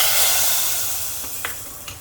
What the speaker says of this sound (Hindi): अब ये तड़का हम डाल देंगे हमारे कढ़ी में।